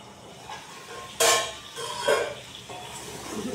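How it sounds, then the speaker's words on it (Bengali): Potatoes and gathi fry with cumin and onion in a pan, a steady soft sizzle broken by a few sharp scraping stirs and pot clatters close by. "এবার এটা একটু ভাজা হতে থাক"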